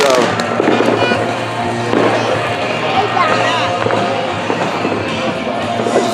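Firework mortars burst across a suburban neighborhood in repeated booms and crackles, some near and loud, while people talk over the barrage.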